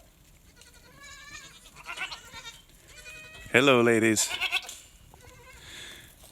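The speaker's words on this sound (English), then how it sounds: "Lots and lots of goats." Goats in a stock panel pen bleating, several calls with one loud close bleat in the middle, while someone speaks briefly to them.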